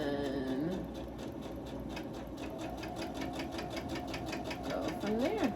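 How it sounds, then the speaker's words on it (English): A sewing machine stitches and backstitches a line, a fast, even mechanical clatter of needle strokes heard close, with someone talking briefly over it at the start and end. "I'm going to backstitch 2, or however many you want to"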